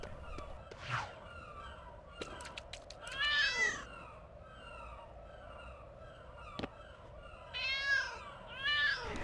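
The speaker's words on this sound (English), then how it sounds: "we can rescue our first cat" A cat meows several times in LEGO City Undercover, a pair of drawn-out, rising cries near the middle and another pair near the end. Short clicks and soft game ambience fill the gaps, with no talk.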